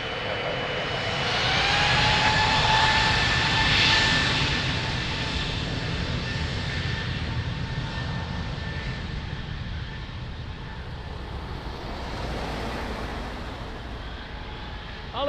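An airliner takes off from runway 02 at Lisbon Airport, its jet engines a loud, sustained roar that swells early, then holds and slowly eases as the aircraft moves away.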